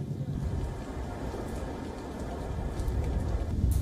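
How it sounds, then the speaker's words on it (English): Heavy rain pours on a coastal fishing village on western Java, a dense, steady wash of noise that swells slightly toward the end, with no voices. "Fishing villages along the coast have also been lashed by heavy rain."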